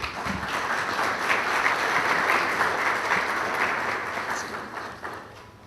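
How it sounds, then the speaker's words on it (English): Warm, continuous applause from the audience at the opening session of a universal health coverage workshop in Ghana, a steady dense patter of many hands that holds for several seconds and slowly tapers. "Round of applause for her, please."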